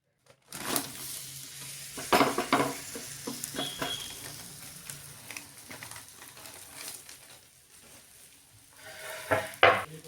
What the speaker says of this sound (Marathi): दोन्ही बाजूनी मस्त खमंग असं थालीपीठ आपल्याला भाजून घ्यायचंय